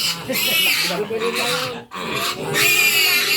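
Hungry farm pigs oink and squeal loudly and close up in rapid, overlapping bursts, with a brief pause midway, while people talk over them.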